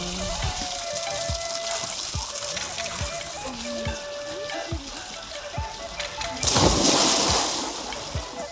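Gentle splashing and trickling of warm spring water close by at Siwa Oasis, Egypt, small drips and swirls, swelling into a louder splash near the end.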